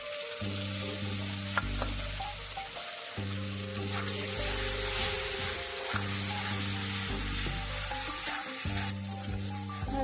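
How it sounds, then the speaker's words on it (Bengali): Green chili paste and turmeric frying with potatoes in a pan for a village-style fish curry: a steady, close oily sizzle with a low hum and bursts of stirring, no talk. "ভালো করে আলুর সাথে ভেজে নেব"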